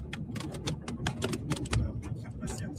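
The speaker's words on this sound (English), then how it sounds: "Those are locusts hitting the car." Locusts strike a car's body in a dense, irregular patter of sharp ticks and taps, steady throughout and close, with voices talking underneath.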